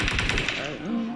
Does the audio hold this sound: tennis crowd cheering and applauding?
no